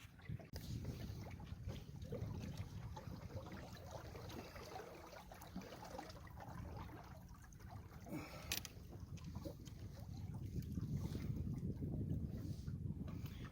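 Sailboat with sails up leaving a sheltered anchorage in fog, a steady wash of water against the hull and rushing wind across the microphone, continuous and enveloping with a faint knock midway, no voices.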